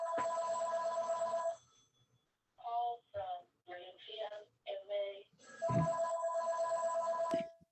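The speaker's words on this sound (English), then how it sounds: "Sorry about my phone." A telephone ringtone chirps in repeated melodic bursts during a by-law review committee meeting, the rings loud and clear against a quiet background with brief pauses between them.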